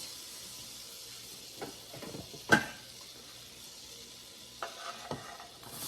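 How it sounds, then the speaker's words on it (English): Chopped onions softening in melted butter in a saucepan over medium heat, a faint low sizzle with a few soft stirring clacks and one sharp utensil knock against the pan. "Just saute those up a bit to soften them."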